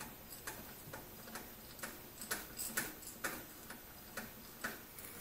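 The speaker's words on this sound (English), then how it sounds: "You need a 17mm socket on a ratchet and go from the back and back off" A ratchet with a 17mm socket ticks in a steady, evenly spaced run of light clicks while backing off a Land Rover transmission brake adjuster, close but quiet with no talking.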